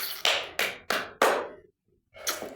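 Several sharp claps spaced about a third of a second apart, then a short pause and another burst, from a classroom audience during a lesson; no talking over them.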